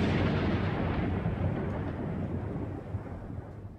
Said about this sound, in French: Ça mérite un petit coup de tonnerre, ça.